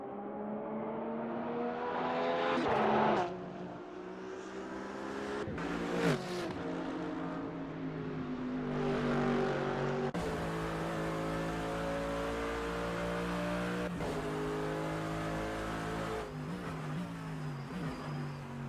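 GT race cars roar around the Nürburgring during an NLS endurance race, engines droning steadily with rising and falling pitch as cars accelerate, shift and pass, loud and continuous without talk.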